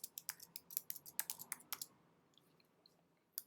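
Quick keystrokes on a computer keyboard as a business name is entered into an online form, a fast run of close, soft clicks that tapers off into a few scattered taps, no voices.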